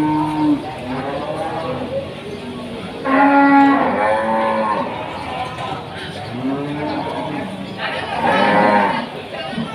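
Simmental cattle mooing in repeated long, loud calls at Pasar Paing livestock market in Pati, Indonesia, several overlapping animals close by, with faint crowd chatter underneath.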